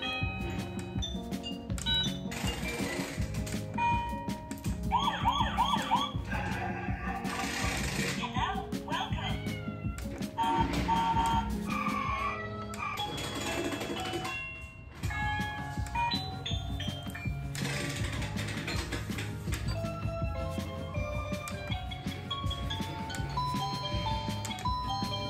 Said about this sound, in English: As you heard, there was normal traditional chimes